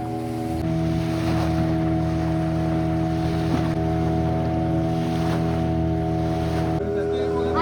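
A boat motoring out onto the deep ocean, its engine a steady, unbroken hum layered with constant wash of waves and wind buffeting, close and loud for the whole stretch.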